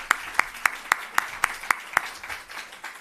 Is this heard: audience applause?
yes